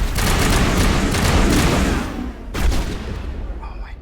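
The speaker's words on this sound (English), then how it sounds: "we're gonna deploy our grenades" Grenades burst and gunfire rattles in a Mass Effect 1 firefight, a loud, dense barrage of blasts and shots that eases briefly, then flares again with another heavy boom before trailing off.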